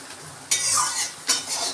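A karola fish head being fried and stirred in a pan, with two distinct scraping stirs of a utensil cutting through a steady close sizzle.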